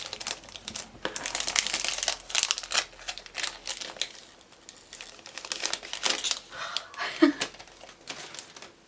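Plastic and paper wrapping crinkles and rustles in bursts as a pink perfume package is opened by hand close up. A brief faint voice is heard among the crackles.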